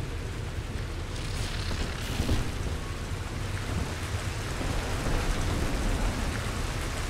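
Steady rain hissing in the game Bioshock 2, a dense, even wash of falling water with faint patter that continues throughout, loud and close with no talking.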